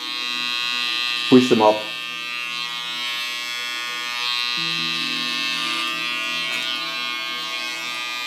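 An electric hair clipper trimming a neckline during a haircut, buzzing steadily at close range throughout, with a brief spoken phrase near the start.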